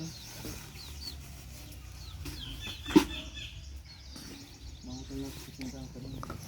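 Hen clucking amid scattered bird calls, with a brief loud thump partway through and faint voices in the background.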